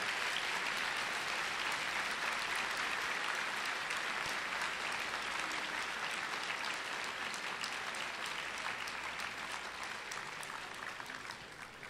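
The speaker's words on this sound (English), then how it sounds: "If we could all have a round of applause" Crowd of delegates applauding in a large hall at a Libertarian Party national convention, a dense, steady wash of clapping that fades slightly toward the end, heard from a distance with no talk over it.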